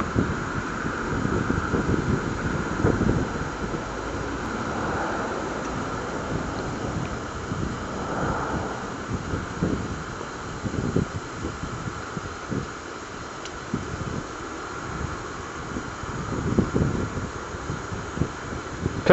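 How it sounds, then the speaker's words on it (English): Wind blowing outdoors, a continuous low rumbling gust noise buffeting close to the microphone with rising and falling surges. "Ah, nice wind."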